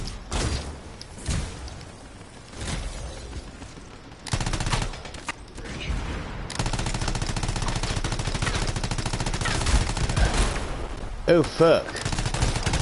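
Video game LMG machine gun fire, long sustained bursts of rapid shots rattling loudly, with brief pauses and a player voice speaking over it.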